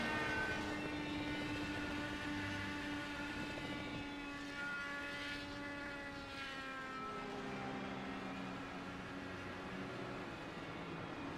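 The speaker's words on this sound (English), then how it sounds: "Matt Brewer's number 2 machine screaming for help. Sounds like an RC plane trying to take off as Brewer limps it around." A damaged IndyCar engine, number 2 machine limping around a track, lets out a sustained high-pitched whining scream with rising and falling harmonics like an RC plane, steady and fairly faint, with no voices.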